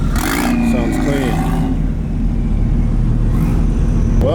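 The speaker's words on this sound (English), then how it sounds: "I hear that turbo. Sounds clean." A turbocharged Honda Prelude cruising in car meet traffic, its engine droning loud and close with a brief rising rev and whistling turbo tones early on, while voices talk over it.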